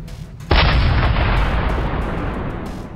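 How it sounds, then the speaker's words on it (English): An artillery turret in the Tanki Online video game fires a shot at maximum velocity, one sudden loud blast followed by a sustained roaring rumble that slowly fades. "And here's what a shot at maximum velocity sounds like."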